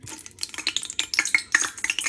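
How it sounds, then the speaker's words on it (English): Hot oil spits and crackles in quick irregular bursts, sharp close pops of water droplets hitting the pan, with no talking. "I've just flicked a drop of water in there and it's spitting away like a good one."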